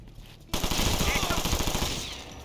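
Automatic machine gun fire in the Ghost Recon Future Soldier video game: a loud, rapid burst of evenly spaced shots after a brief quiet start, ringing out and slowly fading.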